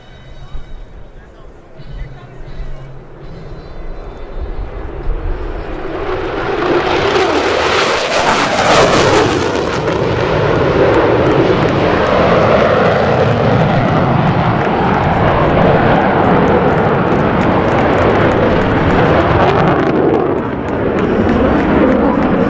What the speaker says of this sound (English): From the right, it's Major John Waters and the F-16 Fighting Falcon.